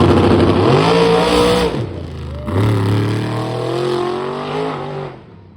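A drag racing car capable of low 7-second or 6-second passes roars loudly nearby, its engine note climbing steadily through gear changes with a brief drop before the next surge, then fading at the end.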